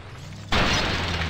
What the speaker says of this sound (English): But we can still watch this crash